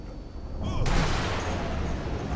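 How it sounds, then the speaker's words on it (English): A grenade explosion blows up a tank in Sniper Elite V2, a sudden loud blast followed by a sustained rumbling roar, with faint voices in the background. "No, look, it just blew that tank up."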